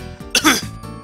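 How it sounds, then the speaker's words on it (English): A single short, rough cough or throat clearing bursts out close and loud, with a voice speaking around it. "Almost felt like coughing there."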